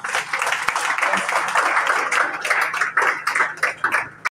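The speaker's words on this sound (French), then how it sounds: "Applaudissez-les encore." Audience applauding graduating class representatives at a ceremony, close, dense clapping from a crowd sustained for a few seconds before breaking off into a few last scattered claps.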